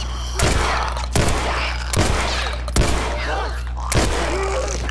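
Gunfire in The Last of Us Left Behind video game: five heavy, evenly spaced shots ring out roughly every 0.8 seconds, each with a booming low thump and a decaying tail, loud and close.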